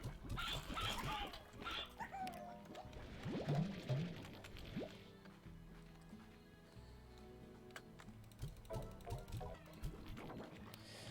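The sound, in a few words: chickens clucking in the video game Slime Rancher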